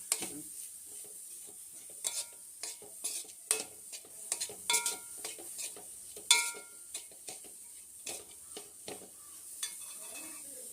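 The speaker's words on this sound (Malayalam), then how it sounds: "ഞാൻ നന്നായിട്ടൊന്ന് ഇളക്കി കൊടുക്കാം." Vegetables for a samosa filling are stirred in a pan, the spoon scraping and clattering in an uneven rhythm over a soft, continuous sizzle, fairly quiet and close, with no talking.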